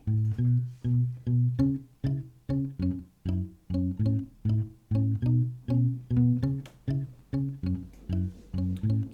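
A looped guitar pattern plays a song's bass line with a second riff layered on top, rhythmic plucked notes repeating evenly, close and alone without any talk.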